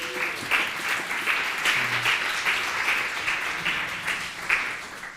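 An audience gives warm applause at a stage event: dense, steady clapping from a crowd, sustained for about five seconds.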